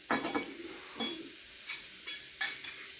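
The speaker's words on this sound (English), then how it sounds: "Scrape the Vegemite on the bread using the knife" A knife scrapes Vegemite across a slice of bread in several short, close scrapes and light clinks, separated by brief pauses and heard without talk.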